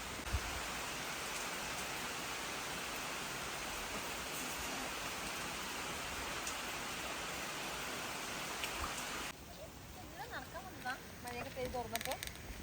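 Steady rain hisses evenly on leaves for several seconds, then drops away abruptly, leaving quieter scattered background sounds of dripping.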